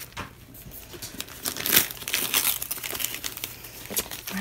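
Gift wrapping paper crinkles and crumples steadily as a present is opened up close, with denser rustling bursts partway through and no talking.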